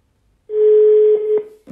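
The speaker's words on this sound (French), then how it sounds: "Kembing, je suis en train de t'appeler là." A single steady telephone tone sounds on an outgoing call, one long clear beep of about a second, with a couple of faint clicks near the end and no talk over it.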